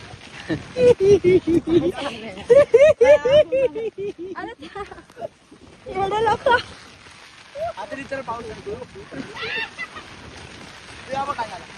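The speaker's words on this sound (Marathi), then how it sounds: "तुफान आलेला आहे सगळीकडे तुम्ही बघू शकता पाऊस आलेला आहे" Heavy rain pours steadily through a storm in the Konkan countryside near a cowshed at Karanje, a constant hiss of downpour running beneath a man's close, continuous talking.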